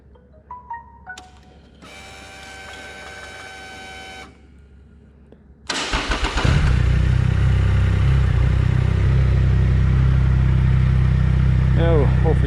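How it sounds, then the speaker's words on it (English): A Triumph Rocket III motorcycle cranks with a whirring starter, catches, and settles into a loud, steady, close idle that holds to the end, following a few clicks and an electronic tone. "you want to start up your bike."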